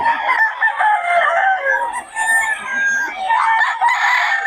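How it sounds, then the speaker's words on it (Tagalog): Young gamecock stags, 11 months old, at a Bocaue poultry gathering, crow and cluck close by in a steady overlapping chorus of several birds with no pauses. "Mga stag ito mga idol ha. Stag. 11 months."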